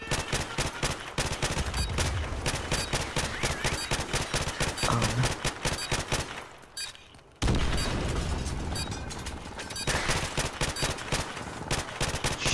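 Gunfire in Call of Duty Modern Warfare Remastered, a dense, loud stream of rapid automatic shots that briefly fades into a lull before the firing resumes.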